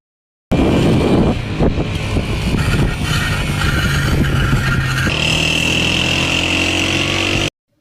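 A motorcycle engine runs loudly and steadily for about seven seconds while the bike is ridden, with a continuous rumbling drone and a shift in tone partway through. No one speaks.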